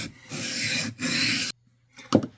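Steady rasping strokes of a Mora 106 Scandi-ground knife blade sharpened on an abrasive, two long close strokes followed by a pause and a brief scrape, no speech.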